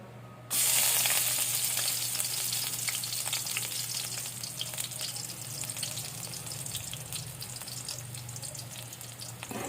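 Octopus sautéing in a hot pan for a Filipino ginisang tabugok dish, a loud steady sizzle bursting in after a short silence and continuing alone with crackles and stirring scrapes.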